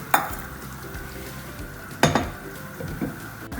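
A spoon stirring Kuttanadan duck curry in a pot: a soft simmering hiss broken by a few sharp metallic clinks and scrapes against the pot rim, close and sparse, no voices.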